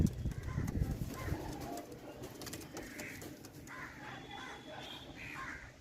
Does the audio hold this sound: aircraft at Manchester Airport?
no